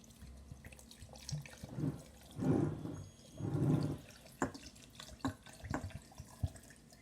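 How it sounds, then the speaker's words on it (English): Vinegar poured over pork for a Guyanese garlic pork, heard as two close, gurgling pours of liquid a few seconds apart, followed by a few soft drips and light clinks. "I'm adding my vinegar."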